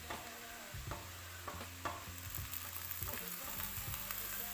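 Chopped onions and potatoes fry over a medium flame, a constant soft sizzle broken by several scraping strokes of a spoon stirring them around the pan.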